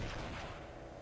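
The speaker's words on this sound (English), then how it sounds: "Sounded like fireworks." Fireworks bursting in the RollerCoaster Tycoon video game, a dense crackling rumble of overlapping explosions heard at low volume for about a second, with no talk over it.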